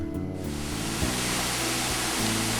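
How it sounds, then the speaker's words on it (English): A large, spectacular multi-stage waterfall on the Road to Hana, heard as a steady, dense roar of rushing water that stays even and continuous throughout, with no voices. "This is another waterfall, much larger one, very spectacular."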